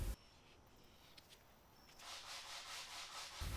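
Quiet rhythmic rubbing of 150-grit sandpaper on a wooden coffee table by hand, soft strokes building into a steadier scrubbing sound, with a thump at each end.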